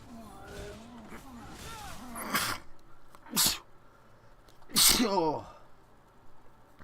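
Several sharp sneezes burst out one after another, each a loud, breathy explosion, mixed with faint voiced sounds between them.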